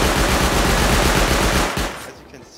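An auto turret in the video game Rust fires a loud, close, continuous stream of rapid automatic shots that fades out over the last half second.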